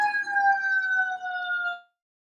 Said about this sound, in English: I want to let that fire engine go by